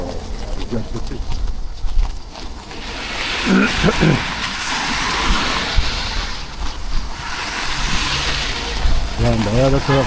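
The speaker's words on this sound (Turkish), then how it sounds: "Yani bayağı da trafik var ya." Street traffic in Şakirpaşa on a rainy day forms a steady broadband wash with occasional tonal bursts and people talking nearby.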